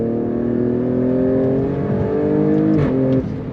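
Inside the cabin of a 2023 Alfa Romeo Stelvio Quadrifoglio SUV, the engine drones with a steady tonal hum that rises in pitch under acceleration, then drops sharply near the end.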